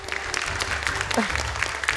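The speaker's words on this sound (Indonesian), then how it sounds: "tepuk tangan sekali lagi untuk mereka" An audience at the Hafiz Indonesia 2021 televised Quran recitation competition applauds with a dense, steady patter of many hands, with a low musical hum and a brief voice underneath.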